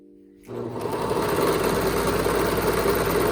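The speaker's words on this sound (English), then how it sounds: "Sergers are an amazing little machine that save you a lot of time" A serger stitching fabric edges while sewing a scrub cap, starting after a brief quiet moment into a loud, fast, steady mechanical whir that runs close and unbroken to the end with no talk.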